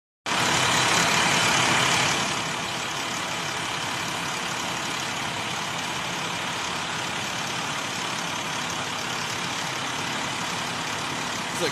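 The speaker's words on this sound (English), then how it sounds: "It's like a backhoe" A backhoe-type heavy engine runs at a wildfire scene in Fairfield. It starts with a loud surge, then settles into a steady, rumbling idle that carries on throughout.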